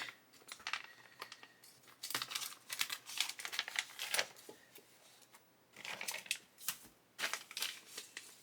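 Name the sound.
plastic bag being opened with scissors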